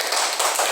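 Children in a class clap for a student, a brief, dense patter of many hands clapping together at close range.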